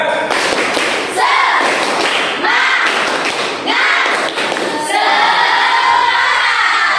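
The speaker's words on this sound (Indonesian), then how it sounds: "Nah ini yang disebut lagi tepuk semangat." A school class performs a rhythmic spirit clap, bursts of loud group clapping with thumps and children's shouts in repeated patterns, swelling into sustained applause near the end.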